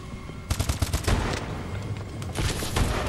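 Rapid gunfire bursts from the Call of Duty: Advanced Warfare video game, loud, dense volleys starting about half a second in and repeating through the rest, with no talk over them.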